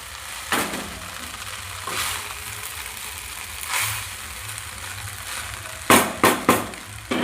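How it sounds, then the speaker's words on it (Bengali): Chilli chicken frying in a pan, a continuous sizzle under occasional scrapes and stirs, ending with three sharp knocks of a utensil against the pan, close by. "এবার আর একটু নাড়াচাড়া করে নিচ্ছি।"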